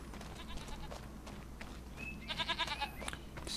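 Goats and sheep in the video game Farming Simulator 25 bleat in short wavering calls, faint over a low steady farm ambience, a few overlapping cries toward the end.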